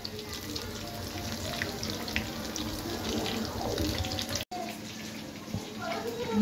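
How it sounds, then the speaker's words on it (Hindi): Chicken pieces sizzle and crackle in hot oil during a second fry for an Old Delhi style crispy chicken fry, a dense, steady hiss close by with a brief dropout near the end. "तो गाइस अब मैं दूसरी बार फ्राई कर रही हूँ।"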